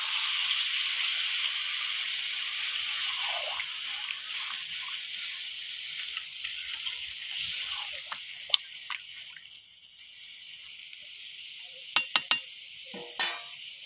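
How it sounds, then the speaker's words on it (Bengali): Meat-washing water poured little by little into sizzling chicken gravy curry, giving a loud steady hiss that eases off, then a few sharp pops and splutters near the end. "এবার আমি মাংস ধোয়ার জলটা অল্প অল্প করে দিয়ে দেবো।"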